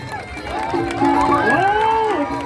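Crowd cheering and clapping at a children's boxing match in a park on Carpenter Road, Kowloon City, Hong Kong, with excited voices and a rising shout rolling steadily through the whole stretch.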